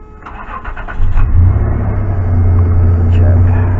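A Toyota 3.4L engine on a high-mileage T100, Tacoma or Tundra pickup starts with a short crank and catches at about one second, then settles into a steady, close, loud idle that holds to the end.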